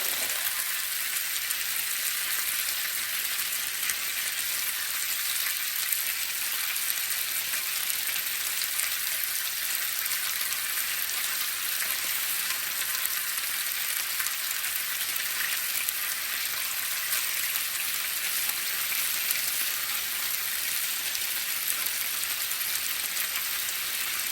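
Shrimp fry in a pan with a steady, even hiss and crackle that goes on unbroken with no talking.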